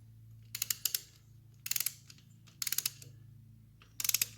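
A ratchet tightens cylinder head bolts on a 1968 Triumph Bonneville during restoration, producing four short bursts of quick, close clicking over a low steady background hum.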